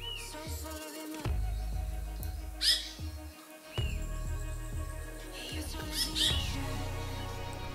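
Wild birds call in a temperate forest in Tantauco Park on Chiloé, Chile, likely a chucao or wet-wet, giving a few sharp, loud squawking calls over a steady ambient hum.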